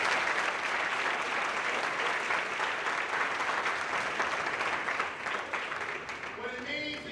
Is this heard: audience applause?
yes